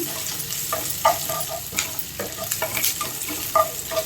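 Coriander paste for rasam frying in a pan, stirred with quick scraping and clinking strokes over a continuous close sizzle, without speech.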